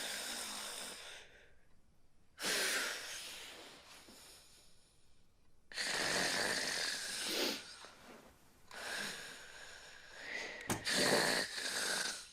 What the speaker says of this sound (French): Vous savez que vous ronflez?